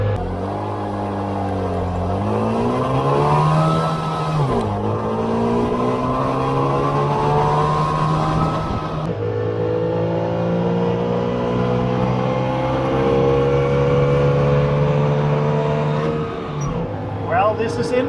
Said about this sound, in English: Let's do a small speed test from 0 to 80 kilometers per hour.